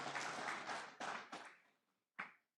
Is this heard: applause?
yes